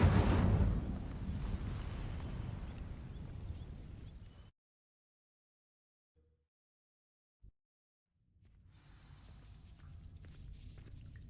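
Incendio fire spell igniting dry vines in Hogwarts Legacy, a loud burst that fades over about four seconds into silence, then two faint ticks before a low ambient hum returns.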